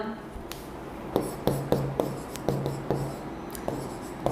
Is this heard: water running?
no